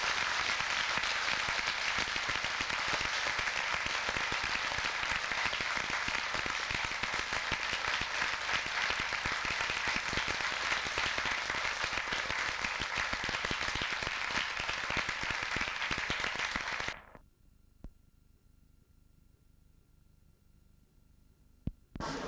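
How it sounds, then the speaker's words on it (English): Audience at a 1989 science-fiction convention in Manchester gives guests a long, loud round of applause that holds steady, then cuts off abruptly into near silence with a few isolated noises. "I think we ought to give our guests a big round of applause."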